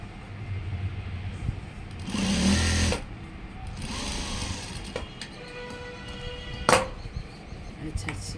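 A sewing machine runs in short bursts while stitching the front panel of a school uniform's half trousers, with a louder whirring run in the middle amid faint background noise and brief clicks.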